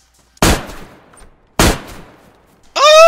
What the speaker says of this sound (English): Sound like an automatic weapon.